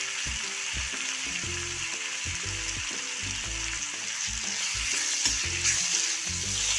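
Tomatoes, onion and finely chopped green chilli fry in a pan for pav bhaji, a loud steady sizzle overlaid with rhythmic scraping strokes of a spoon stirring throughout.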